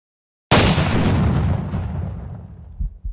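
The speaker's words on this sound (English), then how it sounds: "I'm gonna take a shot in the dark and shoot myself" A single shotgun blast in the video game Buckshot Roulette, sudden and loud, booming out and then trailing off into a long fading rumble, with a couple of soft thuds near the end.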